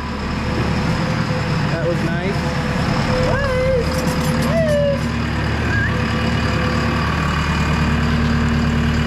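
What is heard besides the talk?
JCB machine engine running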